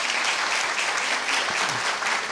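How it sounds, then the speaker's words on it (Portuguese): Lecture audience at a talk by Maria Rita Kehl on violence and conformism breaks into dense, steady applause, a continuous wash of many hands clapping with no pauses. "Eu entendo as palmas não como palmas a mim, mas como apoio ao xingamento dele contra ele"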